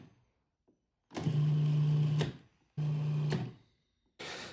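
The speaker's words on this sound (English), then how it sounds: "Then I'm going to pulse the food processor about 10 times just to break up the tea leaves" Food processor pulsing tea leaves with flour and other dry ingredients, three separate motor bursts with a loud steady whir, each about a second long, cut by short silences, close and with no talk.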